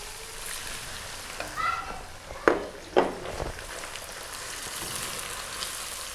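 Tomatoes going into frying onion, ginger and garlic masala in a pan for kadhi pakora, a low steady sizzle broken by a couple of sharp spoon or pan knocks, with no talk.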